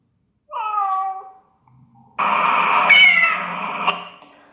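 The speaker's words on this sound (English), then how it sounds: "Cat makes a sound like a meow." A cat meows twice, a short clear meow followed by a longer, louder, drawn-out one, with quiet pauses around them.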